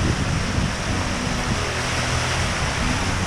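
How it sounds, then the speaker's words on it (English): Sailboat under sail at sea near Porto with mainsail and jib, no motor: steady broadband rush of wind and waves washing past the hull, loud and continuous with no voices. "So we are sailing towards Porto, and we're not under motor"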